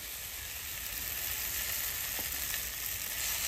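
Potatoes with turmeric frying in a pan, a steady close sizzle with faint stirring and no talking.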